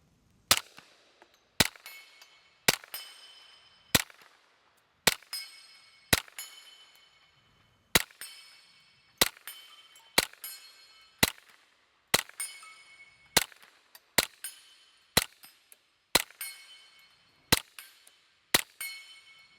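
A Ruger LC Carbine in 10mm fires about eighteen sharp shots at an irregular pace, each followed by a ringing metallic clang as rounds hit a white steel dueling tree 50 yards away, with quiet gaps between.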